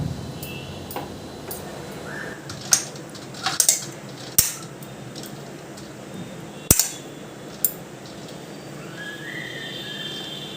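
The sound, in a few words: cooked semolina being transferred onto a plate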